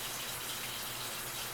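A newly installed kitchen faucet runs steadily, a constant close rush of water pouring into a sink with even loudness and no pauses or talking.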